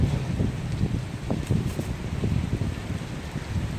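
Wind and heavy rain on Songdo Namhang Bridge at sea, a steady loud broadband roar with wind buffeting the microphone and rain spattering throughout, no voices.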